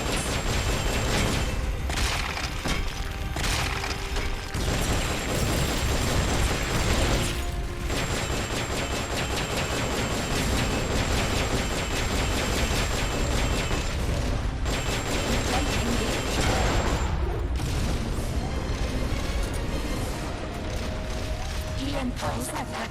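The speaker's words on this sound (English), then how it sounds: "Firing trail missiles. Firing trail missiles." Missiles launching and exploding in the video game Metal Gear Solid Peace Walker, a dense, loud barrage of booms and blasts with mechanical clatter running continuously, with game voices talking over the action.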